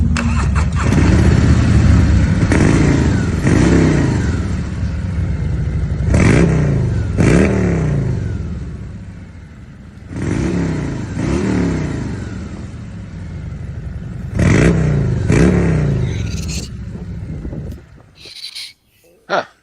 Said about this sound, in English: You hit the button, an electronic valve opens up. Then you have loud exhaust.